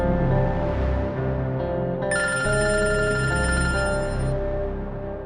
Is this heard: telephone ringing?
yes